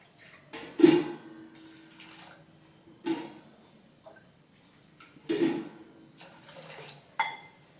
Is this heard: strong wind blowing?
no